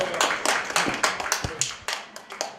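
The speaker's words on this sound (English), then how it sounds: "You guys are going to give him a round of applause as they return back to us." A live audience claps after a magic trick on stage, giving a short burst of dense, irregular handclaps that stays close and lively throughout, with no voices.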